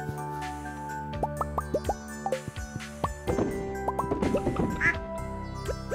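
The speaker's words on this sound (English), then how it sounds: "Quack indeed." Ducks in Stardew Valley quack repeatedly in short, bouncy cartoon calls, several overlapping in quick bursts over a soft game music bed, fairly close and clear with no talking.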